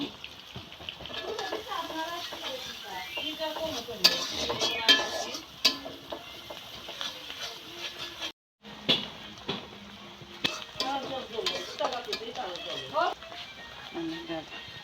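Water lily stems frying in a pan with turmeric, stirred with a spoon: a soft sizzle with scraping strokes and occasional clatter against the pan, while a person talks over it.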